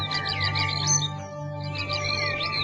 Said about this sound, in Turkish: kuşlar ötüşür dallarında